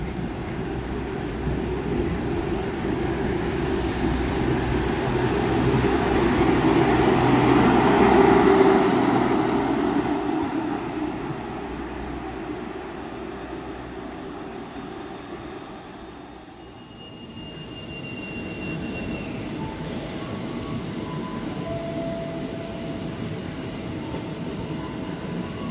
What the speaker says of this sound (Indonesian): Oke, Bogowonto berangkat, teman-teman.